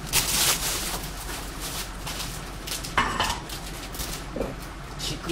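Bean sprouts are stir-fried in a pan with a utensil, giving scattered clanks and scrapes of metal against the pan over a soft background, with a few sharper knocks, close and without talk.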